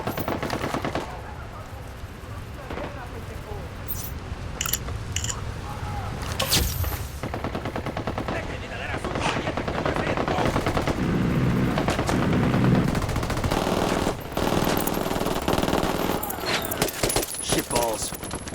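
Gunfire crackles in Ghost Recon Wildlands as rebels fight the cartel, dense bursts of automatic rifle shots and scattered single cracks ringing out over steady battle noise, with a voice briefly talking amid the shooting.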